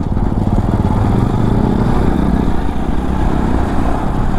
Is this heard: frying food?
no